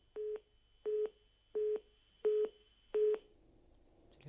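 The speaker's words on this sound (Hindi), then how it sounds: "फोन डिस्कनेक्ट हो गया है।" A disconnected phone call gives five evenly spaced short beeps, one steady mid-pitched tone in a regular rhythm, heard alone before falling silent.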